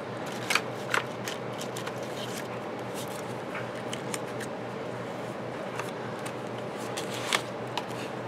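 Paper clips being slipped onto journal pages, a series of light crisp clicks and paper rustles over a steady background hiss, close and fairly quiet.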